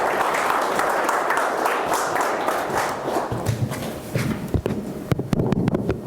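Audience at a PHP security meetup applauding, a dense wash of clapping that thins into scattered individual claps toward the end.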